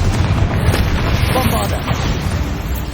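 A Confringo fire spell explodes in Hogwarts Legacy with a loud, rumbling, booming blast that roars continuously through the whole clip, heavy in low rumble.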